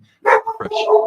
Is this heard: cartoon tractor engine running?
no